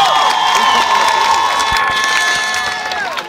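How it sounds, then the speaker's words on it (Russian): Children at a final camp bonfire cheer and applaud together, a loud, dense and continuous crowd roar with clapping mixed in throughout. "Аплодисменты, друзья, давайте поаплодируем."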